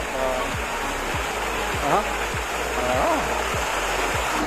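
Steady rush of flowing water fills the scene at a floating restaurant in Calauan, Laguna, with voices talking faintly over it.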